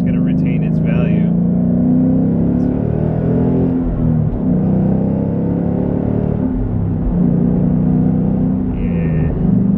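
A 2015 Ford Mustang GT accelerates with a loud, steady low engine drone and rising tone under the cabin, heard from inside the car while a person talks.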